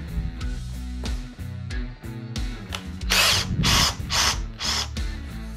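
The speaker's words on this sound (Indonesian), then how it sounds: "Apakah dia kuat untuk pengeboran hole saw ya." A Mollar CID20500-U cordless impact drill bores a large-diameter hole saw into wood: a steady motor whine broken by short pauses, then a louder, rougher grinding cut toward the end, close by with no talk.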